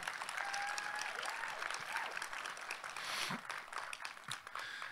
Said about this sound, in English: If we could give a big round of applause to our platform party.